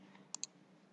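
Two quick, sharp computer mouse clicks close together, near and clear over a faint steady hum, with nothing else going on.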